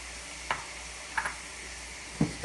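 Ginger, peppers and garlic stir-frying in a pan for a Korean stir-fried pork dish: a soft, steady sizzle with a few distinct scraping strokes of the spatula, close and fairly quiet.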